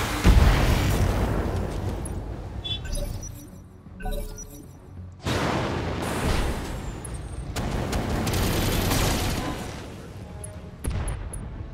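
Mech weapons fire in BattleTech, loud repeated blasts and explosive bursts in several dense stretches separated by brief lulls, with heavy booming low end throughout.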